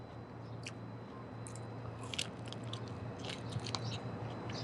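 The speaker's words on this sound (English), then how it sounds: "You can probably hear the crunch." Quiet, close crunching bites and chewing of grilled corn with Aleppo pepper and lime zest, several crisp crackles over a low steady background hum.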